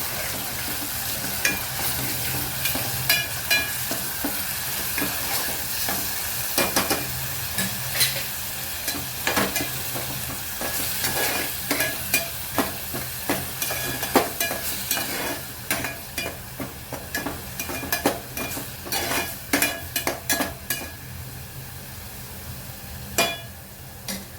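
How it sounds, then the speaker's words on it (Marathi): Onion sautés in oil in a pan with a continuous sizzle throughout, while a spoon scrapes and clinks against the pan in frequent irregular strokes. "कांदा पण तेल सुटे पण परतून घेऊया"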